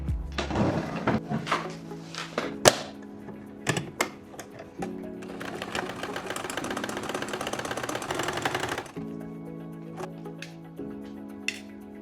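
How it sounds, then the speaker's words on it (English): A sewing machine stitches the inseam of a pair of pants, its motor whirring in steady runs, stopping and restarting, with some clicks and handling knocks between the runs. "I can just go ahead to the sewing machine and sew that."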